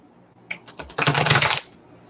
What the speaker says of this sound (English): I'm having issues shuffling today for some unknown reason.